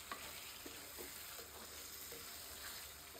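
Fish fries gently in a pan on low heat, giving a faint, even hiss with soft, scattered stirring scrapes and no speech.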